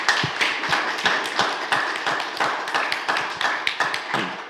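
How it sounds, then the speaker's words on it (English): Audience applause following a panel discussion on Ukraine and the EU, a steady round of clapping from a modest crowd with distinct individual claps, fairly close, continuing throughout. "a round of applause was very well deserved"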